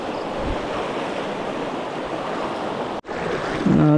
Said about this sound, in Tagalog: Pangatlong river crossing. Ang lakas ng alon.